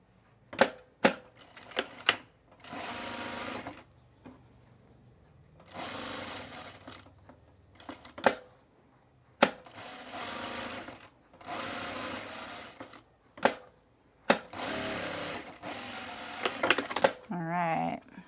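Short bursts of a sewing machine stitching down a flap on a button-down shirt alternate with sharp clicks and pauses, the whirring runs lasting a second or two each, close and fairly loud.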